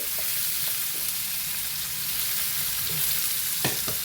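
Large onions dropped into hot oil for an Andhra Rayalaseema-style bitter gourd and tomato curry sizzle in a steady, close frying hiss, with a couple of brief stirring clinks near the end and no talk.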